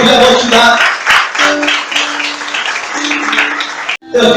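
Church congregation clapping and applauding for Jesus, a dense wash of hands filling the space loudly and continuously, with voices mixed in and a brief cut near the end.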